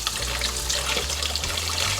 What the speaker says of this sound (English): Rinse the well-fermented chopped kimchi under running cold water.